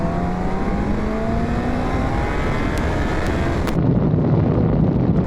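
A Yamaha R1 with a four-cylinder engine, rated at 175 horsepower, accelerating: a steady, loud engine tone rising gradually in pitch, with strong wind noise over the microphone throughout and a brief shift near the end.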